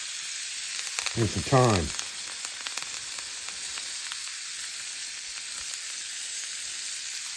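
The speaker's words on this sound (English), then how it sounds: "We're gonna drop 4 garlic cloves in there." Garlic cloves and thyme sprigs sizzle in melting butter in a pan while cooking a ribeye, a steady close frying hiss with a brief louder burst as ingredients drop in; a voice speaks briefly.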